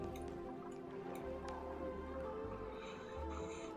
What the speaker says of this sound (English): we're starting to condense some water now